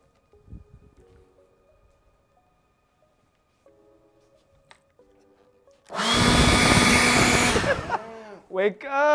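After a quiet stretch with faint small noises, an air blower bursts on for about a second and a half with a loud, close whooshing roar, then a voice speaks.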